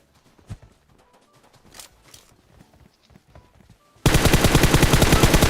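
Automatic gunfire from a PUBG Mobile match bursts in loud and sustained near the end, a dense rapid stream of shots after several seconds of quiet, scattered game noise.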